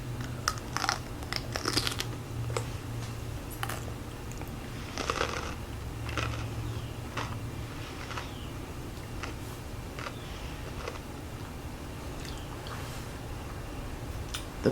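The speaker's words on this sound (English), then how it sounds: "The Parm crisp does add that extra crunch" Crunching bites into fresh cucumber topped with hummus and a Parmesan crisp, a series of sharp close crunches and chewing sounds spread irregularly over a quiet background, with no talking.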